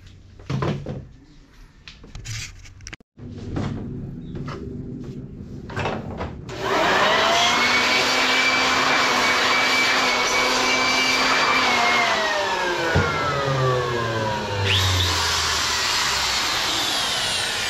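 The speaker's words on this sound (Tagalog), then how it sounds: "Napakalakas ng screw gun na to." A DeWalt cordless screw gun runs in a workshop. A few knocks and handling bumps come first, then the tool whines in a long, loud, high-pitched spin that shifts pitch slightly near the end.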